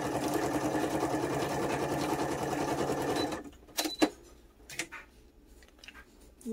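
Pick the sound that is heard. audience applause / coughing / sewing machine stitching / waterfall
sewing machine stitching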